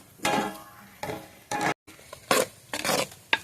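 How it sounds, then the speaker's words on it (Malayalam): Avial mixed with ground coconut is stirred in a clay pot, giving several separate scraping, shuffling strokes with short pauses between them, moderately close and without voices. "നല്ല നമ്മൾ ഇളക്കി യോജിപ്പിക്കുകയാണ്"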